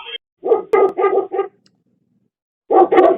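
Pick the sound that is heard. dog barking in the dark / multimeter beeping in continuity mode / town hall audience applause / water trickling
dog barking in the dark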